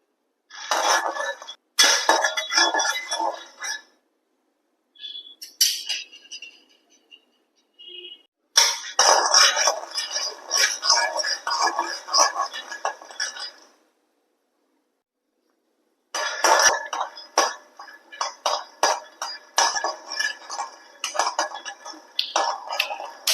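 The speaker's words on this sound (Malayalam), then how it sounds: "നമുക്ക് ആദ്യം കപ്പലണ്ടി ഒന്ന് വറുത്തെടുക്കണം കേട്ടോ" Peanuts dry-roasting in a pan for chutney rattle and scrape in busy bursts as they are stirred, with a few short silent pauses between rounds of stirring and no talking.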